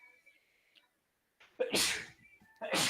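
Quiet background, then a loud, sharp sneeze after a short intake of breath, followed by a second burst of noise near the end.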